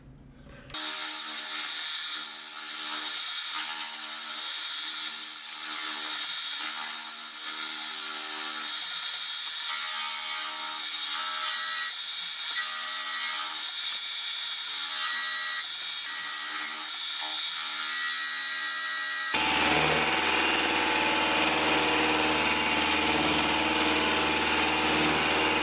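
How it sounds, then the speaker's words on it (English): A milling machine cuts a lathe way cover, giving a steady high whining machining drone with slight fluctuations, then switching to a harsher, broader noisy tone near the end, loud and close with no talking. "now I have the milling machine so I can do it a lot quicker"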